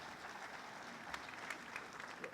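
Audience applause fills the hall at the APEC CEO Summit in Bali, Indonesia: a steady, dense wash of many hands clapping at close range, sustained for the whole stretch with scattered sharper claps and no talking over it.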